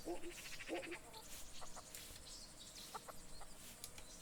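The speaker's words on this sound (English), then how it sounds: "the chicken shit" Chickens cluck in short bursts within the video game Kingdom Come: Deliverance, faint and set against quiet ambient game sound.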